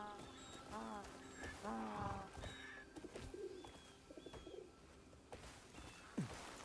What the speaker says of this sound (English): Oh, no, it's a bird.